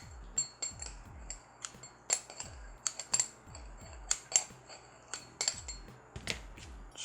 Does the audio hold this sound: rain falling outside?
no